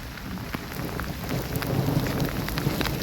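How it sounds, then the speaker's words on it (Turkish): Steady rain falls over open countryside near wheat and barley fields, a dense, even hiss of drops with low rumbles of thunder beneath and no voices. "Güzel yağıyor. Bol bereket olur inşallah."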